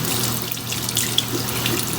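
Tap water runs into a sink as a makeup brush is rinsed under it, a steady close splashing stream with no talking.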